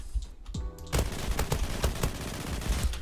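A Tommy gun in the online shooter Zula fires in a fast, sustained burst of sharp, evenly spaced shots after a brief mechanical lead-in, loud and close with no voices.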